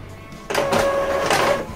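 An Epson L3110 inkjet printer pulls in a sheet of paper and starts a test page, a brief close mechanical whirr with a steady motor whine lasting about a second after a quiet start.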